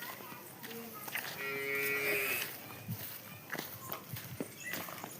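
Cattle on a rural farm low in a mooing call amid nearby hoof footsteps and shuffling, with people talking intermittently in the background.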